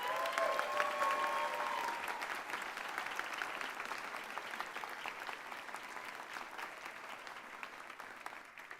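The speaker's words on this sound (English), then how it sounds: "Please give him a round of applause." Audience at a college commencement ceremony applauding a returning judge with a sustained round of clapping that starts strong, then fades slightly while staying steady and dense throughout.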